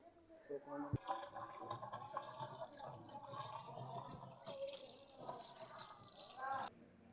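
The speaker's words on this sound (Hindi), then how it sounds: "यहाँ पर जो है पानी लगातार हम लोग डाल रहे हैं, ताकि यहाँ पर अच्छा खासा नमी बने रहे" Water being poured steadily onto the soil of an earthing pit outdoors to keep it moist, a continuous splashing and trickling flow with a couple of sharp knocks near the start before it cuts off.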